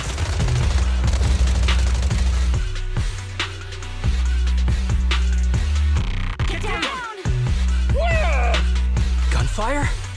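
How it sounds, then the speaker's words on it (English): Bursts of suppressive marching gunfire rattle through a scene in the video game Zenless Zone Zero, loud rapid volleys layered over a low droning score, with characters' voices cutting in toward the end. "Gunfire? This pattern. Suppressive marching fire."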